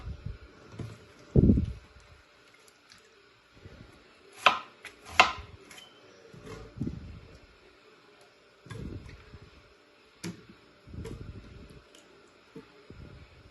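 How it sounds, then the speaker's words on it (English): A knife chops onions on a board for a country chicken curry with tuo zaafi, giving scattered, irregular chops, some sharp and loud, others softer, with quiet gaps between them. "Cut your onions, wash them."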